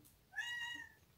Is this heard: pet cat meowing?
yes